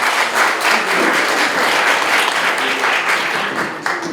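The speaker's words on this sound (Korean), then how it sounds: "박수 부탁드립니다." A seated audience at a security lecture applauds to welcome a former ambassador to the podium, loud continuous clapping from many hands that holds steady and begins to thin near the end.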